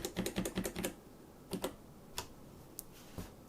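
Keys tapped on a Tecware Phantom TKL mechanical keyboard with Outemu switches: a quick burst of about eight clicky presses, then a few scattered single clacks, close and fairly quiet.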